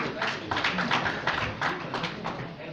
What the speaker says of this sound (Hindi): और इनके लिए भी जोरदार ताली हो जाए।